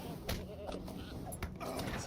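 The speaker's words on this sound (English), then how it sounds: "we're fighting a goat as well this time" Goat bleating during a battle in the Lord of the Rings Online game, short wavering cries over steady combat noise with a voice talking at times.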